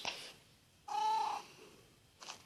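A single short cat meow from a video game rises briefly in the middle of a quiet stretch, with faint soft game sounds before and after and no talking.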